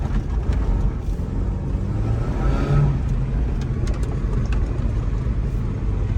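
A Geo Tracker with a swapped-in 5-speed manual transmission and 4.30 gears driving along, a steady low engine drone and road rumble heard from inside the cab with no talk.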